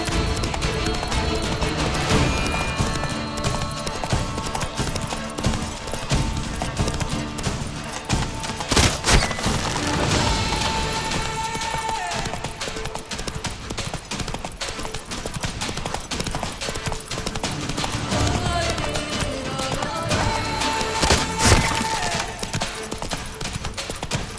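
Hoofbeats of a horse galloping in The Witcher 3: Blood and Wine, a steady clip-clop rhythm running throughout, mixed with in-game music and ambient effects, with no one talking.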